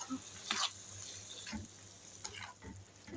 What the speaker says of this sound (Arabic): واضيف شويه ميه صغيرين كده